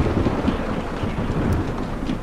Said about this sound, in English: Yeah, we're getting hail.